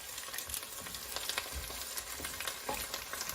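Potatoes and green peas sautéing in a pan while being stirred and tossed, giving a steady soft sizzle with scraping stir sounds and small bumps throughout, close but fairly quiet.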